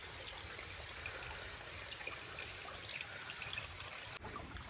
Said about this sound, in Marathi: पाणी देखील या ठिकाणी झुळझुळ झुळझुळ वाहताना दिसतंय आपल्याला